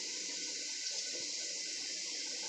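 Water splashing and trickling steadily as salted fish pieces are squeezed by hand to wring out the liquid, a close, continuous wet pour with no talking.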